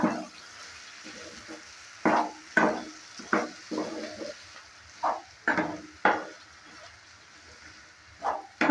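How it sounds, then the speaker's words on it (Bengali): A spatula stirs dried shrimp chorchori masala in a pan, producing a series of close, distinct scraping strokes at irregular intervals over a low background sizzle. "তুলে নেওয়ার পর ভালো করে আবারও নেড়ে নিচ্ছি।"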